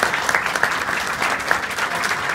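A crowd at a charreada in Cahuacan, held for the association's 94th anniversary, bursts into dense, continuous applause, loud and close, with clapping filling the whole stretch.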